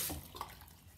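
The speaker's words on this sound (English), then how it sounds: "Let's wash our hands first." Water running from a tap during hand washing, a brief broadband splash and stream with a short burst near the start, steady and close for about a second.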